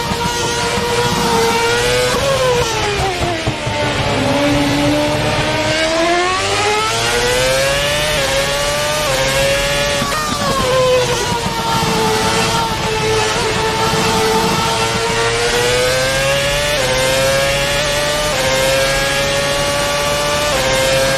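A 2009 Formula 1 car engine in the Sim Dream Development racing game revs loud and high, its pitch rising and falling through gear changes as it accelerates and slows, continuous and close.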